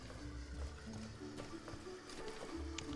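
A horse ridden in the Petz Horsez 2 video game trots along with a steady, fairly quiet clip-clop of hooves over a continuous game backdrop, with no talking.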